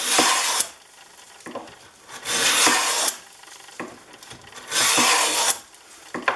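A hand plane shaves end grain on a small walnut panel, making three long, rasping, whooshing strokes with short quiet gaps and light knocks between passes.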